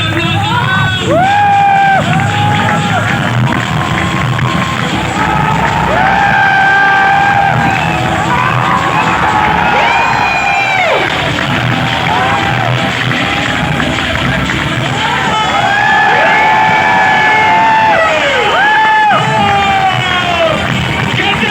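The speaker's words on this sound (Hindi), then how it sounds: "तो भाई जोरदार तालियों से प्रतीक सर को स्वागत देता हूं।" A lively crowd of students cheers and whoops loudly to welcome a teacher at an offline coaching centre in Kota, with shouts rising and falling continuously and up close.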